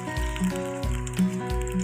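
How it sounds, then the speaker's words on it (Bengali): Onion and garlic fry lightly in a pan with a soft, steady sizzle, quiet and close, with no voices. "আমি হালকা করে পেঁয়াজ রসুন ভেজে নিব।"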